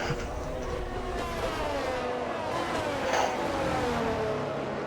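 Race cars in a racing video game roll around a Spanish circuit on a formation lap, a steady engine drone with rising and falling revs from several cars close by, no talking.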